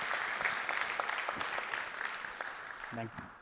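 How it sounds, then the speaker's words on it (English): A crowd at a Google Cloud tech conference session gives a warm round of applause. Clapping is dense and moderately loud throughout, and a brief voice cuts in near the end. "I would like you all to give a warm applause to both Jimit and Andre"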